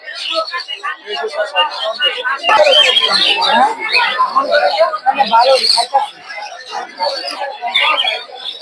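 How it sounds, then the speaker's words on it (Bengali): Budgerigars chirp and chatter in a dense, overlapping twitter at a rural bird market, loud and close, with people talking over the birdsong throughout. "বাজিগর পাখি দেখতে পাচ্ছেন"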